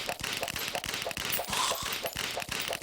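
Rapid gunfire from sniper enemies in the Terraria video game, a dense run of sharp shots repeating about every quarter second, loud and continuous with no pauses, with no talking over it.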